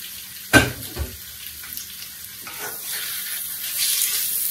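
Beef meets a hot cast iron skillet with a sharp clatter, then sizzles and crackles, the frying hiss building steadily louder toward the end with no one talking.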